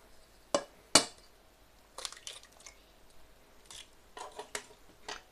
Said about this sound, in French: on va casser nos 2 œufs